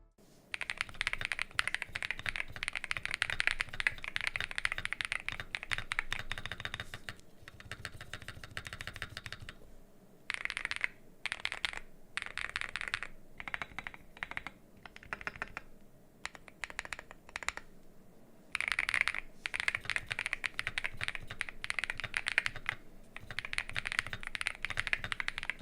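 Fast, continuous typing on a Gravastar Mercury V75 Pro mechanical keyboard with factory-lubed linear switches, smooth muted clacks with occasional brief pauses, close up and steady throughout.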